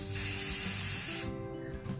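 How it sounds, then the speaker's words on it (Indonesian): Hairspray hisses from an aerosol can onto a brow spoolie, one loud, close spray lasting about a second and a half before trailing off into quieter room noise. "Oke, jadi di sini aku siapin ini kedua ini untuk hairspray dan aku pakai spoolie dari Implora. Ini jadi semprot."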